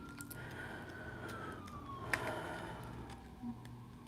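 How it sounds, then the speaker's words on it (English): A distant siren wails faintly with a slowly falling tone, lying under steady low traffic rumble and hum, with a couple of small clicks. "So it's siren over there going."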